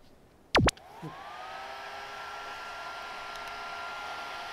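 Small indoor air soccer toy switching on after a couple of sharp clicks, then its fan settling into a steady whirring drone like a little vacuum cleaner, running continuously and close by.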